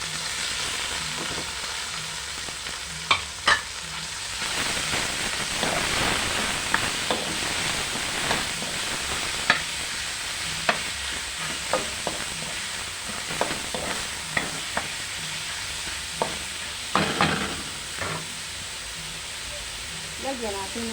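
Ground meat and garlic stir-fried in a pan for lumpiang toge filling, giving a steady close sizzle and hiss broken by sharp spatula clicks and scrapes, with a voice talking over it at times.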